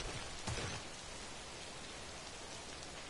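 Steady rain pours down in the game Death Stranding, a dense, even hiss of falling drops that stays quiet and constant, with one slightly louder patter near the start.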